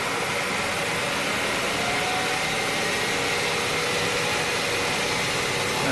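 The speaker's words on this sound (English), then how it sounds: "the lathe is turning away from me" A wood lathe spins a wood and Alumilite pepper mill blank at about 2,000 RPM, giving a steady, even whir and motor hum with no pauses and no voices.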